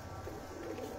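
Desi pigeons on a rooftop give a short, soft cooing, faint and low, with no voices over it.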